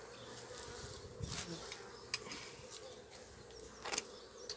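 Honeybees buzz at an opened beehive, a soft continuous drone with a few closer insects zipping past the microphone, all fairly faint.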